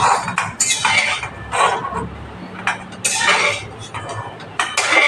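A metal utensil scrapes and clinks repeatedly against a wok in a quick, irregular series of loud, close clatters as boiled cauliflower and potatoes are lifted out.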